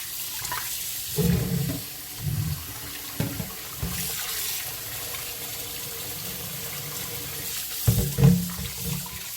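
Water from a tap runs steadily into a sink as beef for curry is washed, a constant splashing hiss broken by a few louder sloshes and clunks as the meat is handled.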